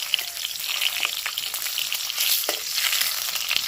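Whole tomatoes fry in a hot pan with a steady, close sizzle and hiss that carries on alone without any voices.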